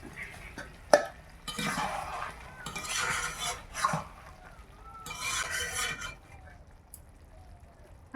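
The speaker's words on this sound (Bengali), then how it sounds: "আরেকবার ঢাকা দিয়ে দেই।" A metal lid goes onto a pot of chicken in a village kitchen, with one sharp clink followed by several bursts of scraping and clattering cookware. The sounds are close and fairly quiet, with short pauses between them.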